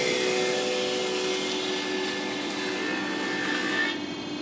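An iTech 260SS planer thicknesser takes a heavy 3mm pass, its motor holding a loud, steady, dense whine with no voices. The roar drops off near the end as the cut finishes.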